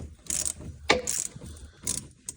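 Quiet metallic ratcheting clicks from a wrench tightening bolts on a Nissan 200sx S13 1.8T drivetrain, a few short bursts with pauses between, close and faint.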